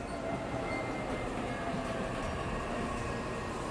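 Train in the video game 13 Sentinels: Aegis Rim, with a continuous rumbling ride noise and a faint steady hum and whine running for a few seconds, no speech.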